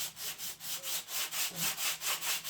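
Diagonal strokes of sandpaper across a wooden model boat hull give a close, regular scratchy rasp, roughly nine back-and-forth passes in a steady rhythm with no voices.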